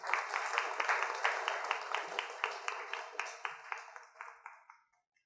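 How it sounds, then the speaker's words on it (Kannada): Audience applause in a hall during a Kannada talk on meditation and numerology, a dense burst of many hands clapping that rings clearly, then thins out and fades to silence over about five seconds. "ಅವರು ಹೃದಯ ಸ್ಥಾನ ಅನ್ನೋರಿಗೆ ಒಂದು ಚಪ್ಪಾಳೆ ಹೊಡೀರಿ."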